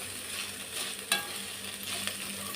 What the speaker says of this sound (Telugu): ఇది పచ్చివాసన పోయేదాకా బాగా ఫ్రై చేసుకోవాలి.